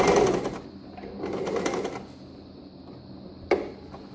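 Sewing machine back stitching while finishing an exposed zipper, a short burst of rapid mechanical clatter at the start, then quieter whirring and a single sharp click near the end.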